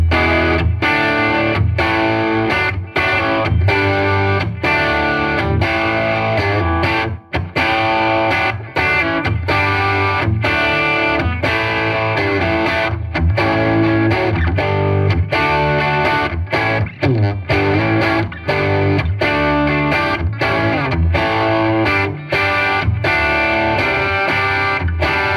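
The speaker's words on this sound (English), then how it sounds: "Now it's some more like crunchy tones. I'm going to start with the bridge pickup first." Epiphone Sheraton II semi-hollow electric guitar played through its bridge pickup with a crunchy distorted tone, loud and sustained chords and riffs ringing continuously with short choppy breaks, no voice.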